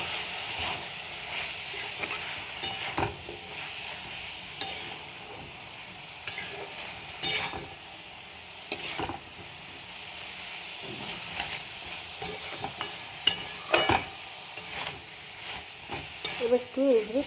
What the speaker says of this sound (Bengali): এবার একটু এগুলো কষিয়ে নেব